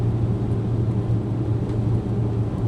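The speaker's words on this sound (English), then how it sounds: "With the windows down and the top down, this thing sounds like a race car." A Porsche 981 Boxster S with a six-speed manual, sport exhaust and a 997 GT3 throttle body drones loudly and steadily from inside the cabin with the top and windows down, a continuous low engine rumble with no talk.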